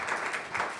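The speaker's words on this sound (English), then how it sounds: "Give yourselves a round of applause." A brief burst of applause from an audience at a Special Education Foundation and Character Plus fundraiser, many hands clapping together steadily at moderate volume.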